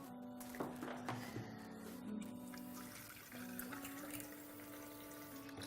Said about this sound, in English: Okay, so I'm gonna add some water and then blend this.